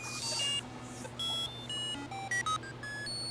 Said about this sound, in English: maybe mirrors the duration of R2D2's beeps and boops a little bit more